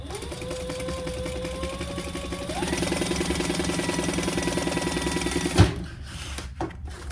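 A sewing machine stitches steadily through a 1/4 inch seam closing a crossbody bag pocket, its rapid, rhythmic needle pulses loud and close for over five seconds, then stopping with a clunk and light handling noises.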